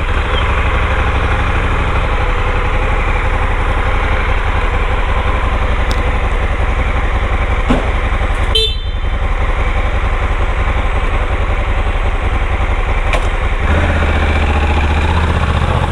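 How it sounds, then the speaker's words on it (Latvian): A motorcycle engine runs steadily at a mid-pitched idle near a vehicle inspection station, loud and continuous, then revs shift slightly toward the end as it pulls away. "Aizbrauca mans mocīts."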